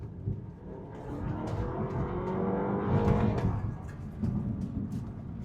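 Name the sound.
BMW F30 320i accelerating with kick-down in Sport mode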